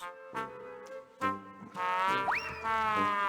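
Cartoonish frog croaks from the PC adventure game Toonstruck (1996), a few bursts of harmonic croaking followed by a rising, bouncy glide, fairly close and clear with no talking.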